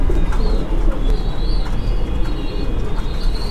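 Magpie pigeons coo softly in a loft, the calls repeating amid a constant low rumbling background noise.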